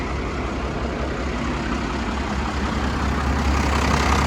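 A Dodge W350 truck's 12-valve diesel engine, seized and flooded after sitting for a decade, idles steadily with a deep, constant rumble, close by and unbroken, with no voices.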